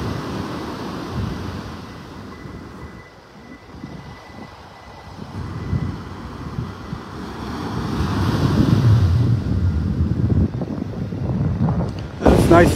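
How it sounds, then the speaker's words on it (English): Steady breeze and rolling surf on Vanderbilt Beach in North Naples, Florida, a broad rushing wash that swells louder through the middle and end, with faint voice-like sounds mixed in. "Nice little breeze blowing out here as well. I'm sure you can hear it."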